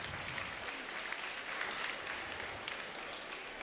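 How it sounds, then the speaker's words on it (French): Audience applause after ten cats are presented at a cat judging contest at the Paris International Agricultural Show, steady dense clapping throughout at a moderate distance. "On les applaudit tous avant de donner le verdict."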